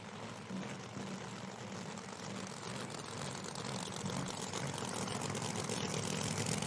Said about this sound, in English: Rumble of that blower.